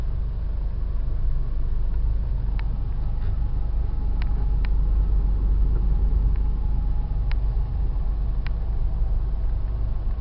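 Steady engine and tyre rumble fills the cabin of a VW T-Cross driving on the road, with a few faint clicks and ticks over the drone.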